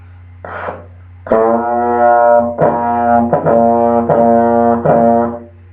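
A trombone plays a sustained note in a series of tongued, evenly articulated pulses after a brief first blow, loud and close, with nothing else heard.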